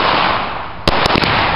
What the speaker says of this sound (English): We're doing real fireworks.